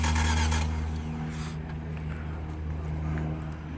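A 2011 Hyundai Elantra with a jump box attached cranks over without starting, a steady motorized churn holding loud and continuous for about four seconds, with no firing catch.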